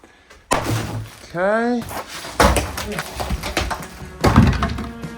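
Wooden door being unscrewed and lifted off its hinges during a fireplace demolition and renovation, giving several loud thuds and knocks with a brief scraping creak, while a person speaks briefly.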